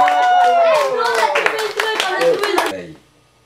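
A small group of children and adults clap at a party game, with lively chatter and voices over the clapping before it dies away.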